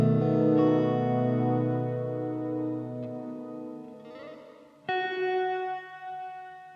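Sustained electric guitar chords through a plate reverb pedal ring out with lush, washed reverb and a shimmering high sheen, followed by a fresh strummed chord that swells and lingers.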